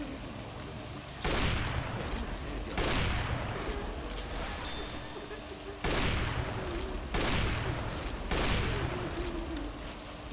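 Repeated loud shotgun-like blasts in Left 4 Dead 2 during a sugar mill level, about five heavy shots spaced a second or two apart over constant game ambience.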